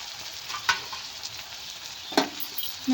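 Ground cumin and mustard paste frying in a hot pan makes a loud, continuous sizzle, broken by a couple of sharp scrapes as it is stirred.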